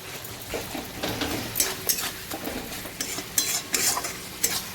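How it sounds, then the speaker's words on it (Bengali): Spice masala with ground cumin being stir-fried for egg curry, a spatula scraping and clinking against the pan in uneven strokes over a steady close sizzle, with no voices. "এবার মশলাটা ভালো করে কষাবো"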